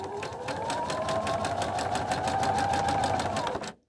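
A sewing machine threaded with dark top thread and light bobbin thread stitches steadily at a fast, even pace for several seconds, close and loud, then stops abruptly.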